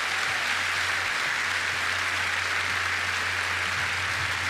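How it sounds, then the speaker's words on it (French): A theatre audience at a magic show applauds for a volunteer, a dense, even wash of clapping that carries steadily from start to finish. "Applaudissements pour Philippe."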